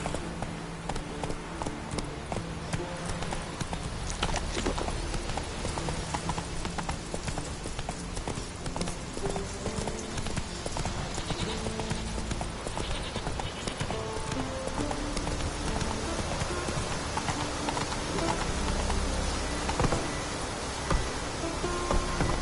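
Roach the horse galloping in The Witcher 3, a steady, rapid clip-clop of hooves that carries on throughout, loud and close, over a constant rushing background, with no talk.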